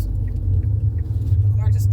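A car with an unaddressed check-engine fault idles roughly, its low rumbling engine steady and close with slight uneven surges, while someone talks over it.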